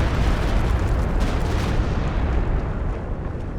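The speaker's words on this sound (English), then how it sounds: "Stuka is coming now, shooting in the middle around." Stuka dive bomber barrage in a video game, heard as a dense, continuous roar of overlapping explosions and rumbling blasts that stays loud and heavy for the whole stretch, easing only slightly toward the end.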